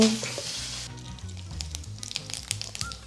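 Dry red chili and curry leaves hit hot tempering oil on a stove, crackling and sizzling up close in a dense burst of sputtering pops that keeps going steadily.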